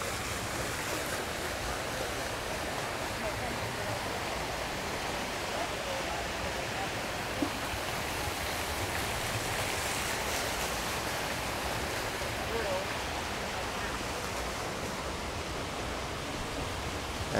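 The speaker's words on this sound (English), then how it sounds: "you can see a very nice waterfall" Steady, broad rushing of falling water, continuous and even throughout, like a nearby waterfall with no other sounds breaking through.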